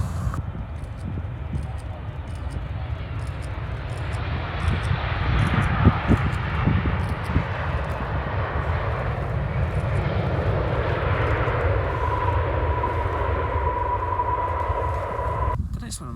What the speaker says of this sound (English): on landing roll now is the Qatar Airways Boeing 777